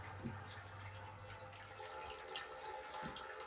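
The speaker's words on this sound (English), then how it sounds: "You can hear that water, it's coming" A faint, steady rush of water runs continuously through a pipe at a spring house, with a few soft knocks.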